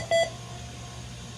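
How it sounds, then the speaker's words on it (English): A single short electronic beep sounds from a nurse call button in a hospital room, a clear tone near the start followed by a quiet steady hum of room noise. "You'll hear a beep in the background."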